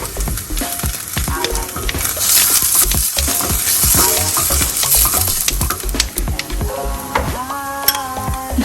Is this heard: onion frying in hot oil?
yes